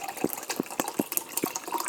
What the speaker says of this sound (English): open this drink and you pour it inside